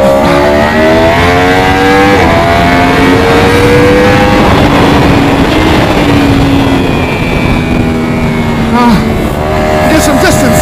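Racing motorcycle engines, a Ducati 1299 Superleggera and a Yamaha R1M, scream at high revs on a track, pitch rising and falling through gear changes and corners, loud and close, with a person talking over the engine noise.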